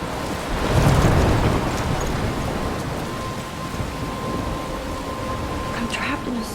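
A thunderstorm rages with steady heavy rain, rumbling thunder and gusting wind, loudest near the start and continuing throughout.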